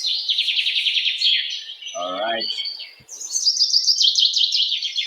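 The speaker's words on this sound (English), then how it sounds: "Looking out the window, you can hear the birds tweet." Birds chirp and tweet steadily outside a window on an overcast day, a dense run of bright calls that drops away for a moment while someone speaks briefly, then returns just as full.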